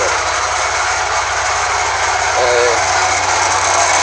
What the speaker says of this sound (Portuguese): Aqui ó, esse barulho sai aqui do alternador galera, ó. Sai do alternador, barulho estranho galera.